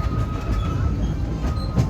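Disneyland Railroad train rolling along its rails near New Orleans Square Station, a steady low rumble of wheels and cars with faint squeal, continuous and fairly close throughout.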